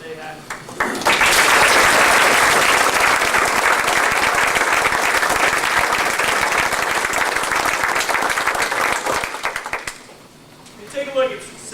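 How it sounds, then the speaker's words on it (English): Round of applause for a varsity baseball team at an end-of-season banquet, a roomful of people clapping loudly and steadily for about nine seconds before fading out, followed by a short murmur of voices. "this varsity team deserves a great round of applause"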